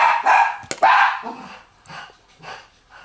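Dogs bark loudly in a rapid cluster of overlapping barks, then a few fainter, spaced yaps trail off toward the end.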